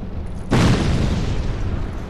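A thrown fire bomb bursts in Dark Souls 2: Scholar of the First Sin, a sudden loud boom that hits about halfway through and then rolls on as a sustained roaring, crackling fire.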